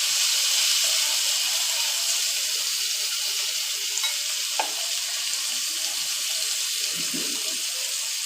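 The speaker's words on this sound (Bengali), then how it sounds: "পেঁয়াজটা আমি একটু লাল লাল করে ভেজে নেব।" Onions frying to a reddish brown in a pan for a dried lote fish dish: a loud, continuous close sizzle of oil, broken by a couple of soft spatula knocks while stirring.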